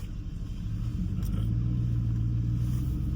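A stock Chevrolet Silverado 5.3 4x4 pickup with 4.10 gears and a Cat Eye front rolls along while merging into a lane, giving a steady, close engine and road rumble with no talk.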